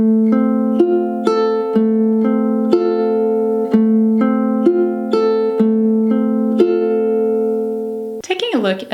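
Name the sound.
ukulele fingerpicking pattern at song tempo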